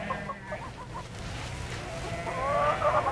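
Chickens bought from villagers on a Silk Road journey cluck in a soft series of short, repeated notes, followed by a louder, more drawn-out call at close range over a constant low background noise.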